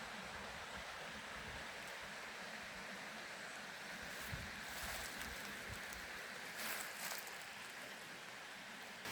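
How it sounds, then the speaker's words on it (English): A river runs beside a hill path on an easy climb, a steady broadband rush of flowing water that fills the whole scene and continues unbroken at moderate loudness. "I just love that river following you along the path."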